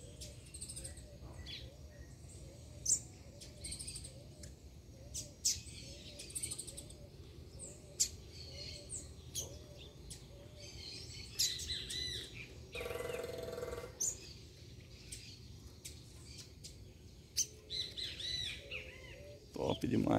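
A female collared seedeater chirps in short, repeated calls at a steady rhythm, sounding moderately distant over a soft outdoor background, with other bird calls scattered around.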